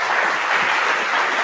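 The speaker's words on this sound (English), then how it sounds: "Give him a round of applause." Conference audience at a business summit clapping for a presenter, a brief, loud, even burst of many hands with no pauses.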